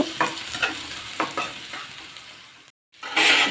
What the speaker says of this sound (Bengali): চুলায় ফ্রাই প্যান দিয়ে তেল দিয়ে পেঁয়াজ দিয়ে দিলাম